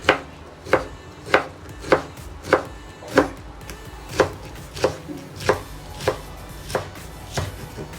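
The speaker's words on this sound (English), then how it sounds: "Okay, so we've chopped up our seasoning and our spinach." Knife slicing through rolled-up spinach leaves on a cutting board, about a dozen crisp, evenly spaced chops close by, with no voices over them.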